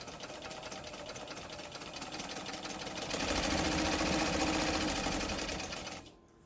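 A White 565 sewing machine runs with a steady, close mechanical whir and needle clatter, speeding up partway through before stopping abruptly at the end.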